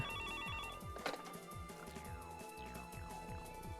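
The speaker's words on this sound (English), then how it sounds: "the phone began ringing once more" A telephone rings in a visual novel sound effect from Higurashi, a steady electronic bell trilling continuously, clear and alone with no voices.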